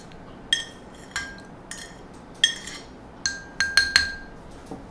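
Garlic dropped into a glass of urine, giving several sharp glass clinks and taps at irregular intervals, close and clear in a quiet room.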